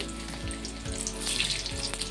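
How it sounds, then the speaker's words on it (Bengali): Boiled, salted potatoes fry in a pan with a continuous close sizzle and bubbling crackle, plus a few low knocks and thumps from the pan as they cook. "সেই আলুটাকে ভেজে নেব"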